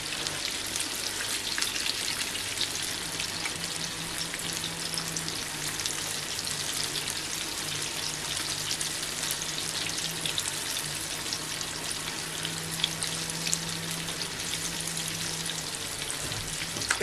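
Zucchini fritters fry in a pan with a steady, crackling sizzle, like light rain, that continues unbroken for the whole stretch with no talking.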